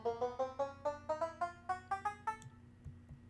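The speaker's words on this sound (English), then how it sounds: "Then we got ourselves the banjo." Plucky twangs from a Minecraft note block banjo climb in pitch across about eleven evenly spaced notes, bright and close, ending with faint background clicks and no voices.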